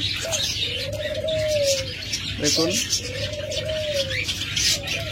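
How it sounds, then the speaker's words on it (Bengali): Caged sweetal doves at a bird seller's place give two long, smooth coos close by, with chirps from other birds and brief speech in between over a busy background. "অনেক সুইটাল ঘুঘু রয়েছে।"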